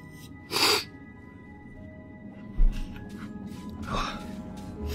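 A single sneeze bursts out clearly near the start over a low steady background hum, followed by a few fainter breathy sounds.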